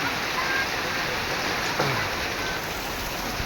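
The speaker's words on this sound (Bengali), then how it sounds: "খুব সুন্দর একটা বৃষ্টি বজ্র বৃষ্টি হচ্ছে" Dense, continuous midday thunderstorm rain hissing close by at an even level; no distinct thunderclap stands out.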